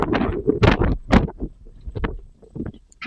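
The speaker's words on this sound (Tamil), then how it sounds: "இங்க வந்து ஒரு நாள் முழுக்கவே இந்த மாதிரி காத்தானது அடிச்சுக்கிட்டே தான் இருக்கும்" Strong hot wind buffets the microphone across farmland in irregular loud gusts, rumbling and thumping with lulls between bursts.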